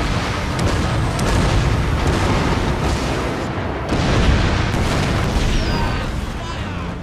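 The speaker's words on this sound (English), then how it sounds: "being able to fire cannons a few hundred metres to being able to fire, you know, tens of miles" Cannon and naval gunfire in the video game Total War: Shogun 2 – Fall of Samurai, heard as a dense, continuous barrage of booms and rumbling blasts at steady loudness across the whole stretch.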